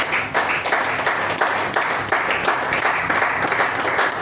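A congregation at a prayer meeting bursts into sustained applause, many hands clapping densely and loudly in a continuous wash with rhythmic pulses, close and full throughout.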